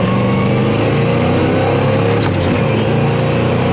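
A 1970 Chevy Chevelle with a rebuilt carburetor, 250 horsepower, runs at high revs near 4,500 RPM. The engine drones loud and steady throughout, close up.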